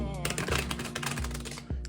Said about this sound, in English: we're gonna try and shuffle these cards face up into